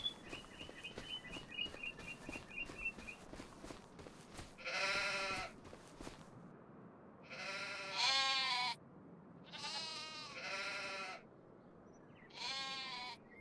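Sheep and goats bleat in Farming Simulator 25, four loud drawn-out calls over a constant low farmyard hum, with a faint high chirping tone early on.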